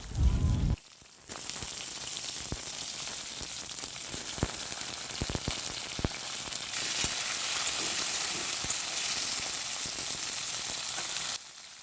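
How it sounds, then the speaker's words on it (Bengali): Long-cut vegetables (potato, pointed gourd, long beans) hiss and crackle steadily as they drop into hot oil with cumin seeds, a loud close sizzle that starts after a brief pause and continues without talk. "সবজিগুলো তেলের মধ্যে দিয়ে দিচ্ছি"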